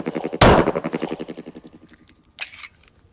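A single loud close shot from a Browning Hi-Power pistol firing a previously light-struck round, a sharp crack followed by a brief ringing tail, then a quieter mechanical click.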